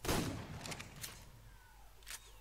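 Armor-piercing ammunition fired from a modded gun in the video game ARK: a single loud sharp shot at the start with a decaying tail, then a few fainter clicks and bursts, no talk.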